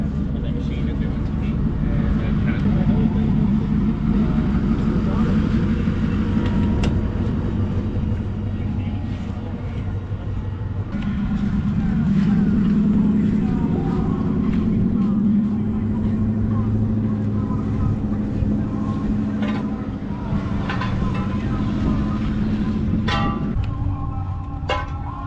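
A diesel engine runs steadily close by at a tech day car event, a low rumbling drone that rises and falls slightly over time, with voices talking now and then over it.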